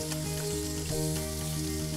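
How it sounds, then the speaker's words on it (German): Bacon frying crisp in a pan gives a steady, close sizzle with small crackles and pops over a faint steady hum, with no talking. "Zuerst brate ich den Bacon schön kross in einer Pfanne an"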